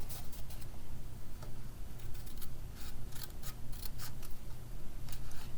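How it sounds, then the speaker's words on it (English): Small snips trim excess paper off a handmade sympathy card, a run of quick, crisp close-up cuts repeating in an irregular rhythm with no talking. "I'm going to trim off this excess with my little snips here"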